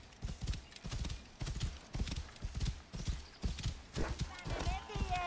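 Steady rhythmic hoofbeats of a galloping horse in the video game Assassin's Creed Origins, close and clear, with a brief whinny near the end and faint talk underneath.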